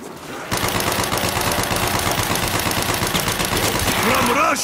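Sustained rapid machine gun fire blasts almost nonstop in Call of Duty Black Ops zombies on the Kino der Toten map, loud and dense, with a voice briefly speaking near the end.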